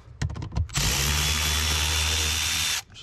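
Several short bursts come first, then a power driver runs steadily for about two seconds with a loud, high, buzzing whir while unbolting a blower motor in a 2011 Audi A4 (B8).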